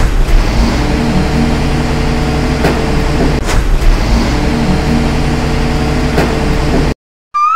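A garbage truck engine rumbles nearby at a steady idle, with a couple of brief clanks, then cuts off abruptly near the end.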